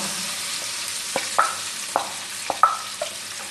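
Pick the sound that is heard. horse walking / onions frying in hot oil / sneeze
onions frying in hot oil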